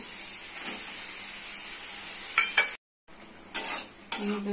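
Soybean chunks and masala being stirred and fried in a pan, a steady close sizzle with scraping strokes of the spoon that briefly cut out before the frying resumes.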